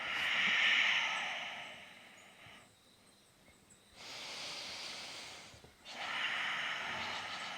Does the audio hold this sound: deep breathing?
yes